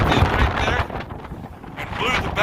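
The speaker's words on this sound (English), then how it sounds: "with the wind blowing the way it is" Strong outdoor wind gusting and buffeting the microphone in the aftermath of a storm, a loud steady roar with rising and falling gusts, with a voice partly audible beneath it.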